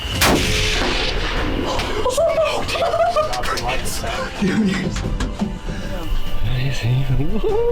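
Hunting rifle fired at a deer, a sharp blast at the start followed by excited voices, chuckles and talk throughout.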